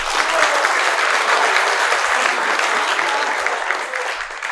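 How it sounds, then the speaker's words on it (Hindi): Loud, dense audience applause fills a comedy talk show stage, a continuous wash of many hands clapping close and steady, tapering slightly near the end with no voices heard. "इसमें ताली बनती थी।"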